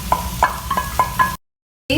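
Soaked split moong dal goes into a hot pan and is stirred, giving soft sizzling with a few rhythmic knocks and scrapes of a spoon before the sound briefly cuts out.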